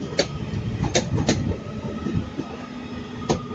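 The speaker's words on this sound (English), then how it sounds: "This Transport for Wales train hasn't left yet, so we might have a chance to get it leave." A Transport for Wales train sitting at a platform in Manchester Piccadilly station, giving a steady low rumble with a few sharp clanks and hisses standing out near and moderately loud, with no talking.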